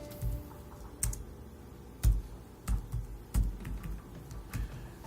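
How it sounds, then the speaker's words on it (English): Someone types a new password on a computer keyboard in short bursts of quick key taps, separated by brief pauses, close and fairly soft, with no speech. "You simply type in your new password here."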